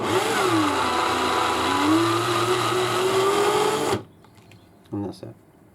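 A power drill spins an unfired Lapua .223 brass case during prep, giving a steady loud whine with a slowly rising pitch for about four seconds. It then cuts off, followed by a few short quiet clicks and handling noises.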